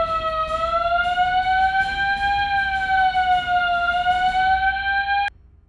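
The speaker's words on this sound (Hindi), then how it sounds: "पूरे घर में सेंट्रल अलार्म सिस्टम लगा रखा है" A central home alarm system blares a loud, continuous electronic wail with a slowly wavering pitch and sharp harmonics, sounding alone for about five seconds before cutting off abruptly.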